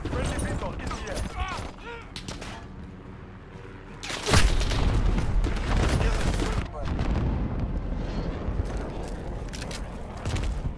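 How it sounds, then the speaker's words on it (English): Friendly cruise missile strike exploding in Call of Duty Modern Warfare, with a sudden heavy boom and a sustained roaring blast after rumbling gunfire, while voices speak over the battle noise. "Friendly missile in the air."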